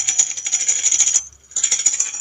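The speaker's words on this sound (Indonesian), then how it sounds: "Ini adalah bunyi tamborin." A tambourine is shaken in rapid bright jingling bursts with a short pause in the middle, close and clear, no voices.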